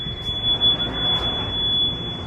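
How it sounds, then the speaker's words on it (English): A house alarm gives one continuous high electronic tone that holds steady and loud throughout, over a rushing background hiss. "I have an alarm."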